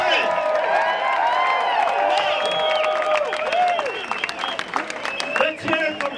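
Loud, sustained applause and whoops fill an outdoor Massachusetts GOP rally crowd, with shrill whistles and cheers over the clapping before it thins slightly at the end.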